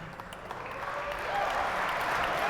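Crowd applause at a 2014 Tournament of Champions squash match between Shabana and Matthew, a steady wash of clapping that swells slightly over a couple of seconds, with a faint tone underneath.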